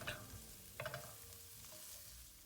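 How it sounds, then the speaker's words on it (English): Diced onions sauté in olive oil in a pan over medium-high heat, a soft, steady sizzle broken by a few quick scrapes and stirs, close by but quiet, with no talking. "In a pan on a medium to high heat, add a tablespoon of olive oil, 1 cup of diced onions, and saute until soft."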